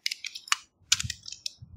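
Keys on a computer keyboard tapped while entering Arduino code for a servo and infrared remote project, a close, irregular run of light clicks and clacks with brief pauses between bursts.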